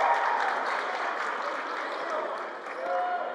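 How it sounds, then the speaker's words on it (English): A high school basketball crowd applauds steadily in a gym during a Farragut at William Blount game, a continuous wash of clapping at moderate loudness with a brief dip near the end. "Jordan Tarver gets a round of applause"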